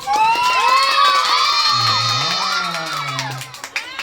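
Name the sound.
party guests clapping and shouting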